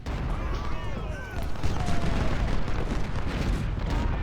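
Civil War 6-pounder cannons in Ultimate General fire in a dense battle soundscape, with low rumbling booms and crackling musketry blending into a continuous roar.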